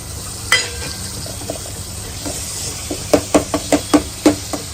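Onion dropped into hot oil with ginger, garlic and chili paste sizzles in a pan, followed by a run of sharp spoon knocks and scraping stirs against the metal.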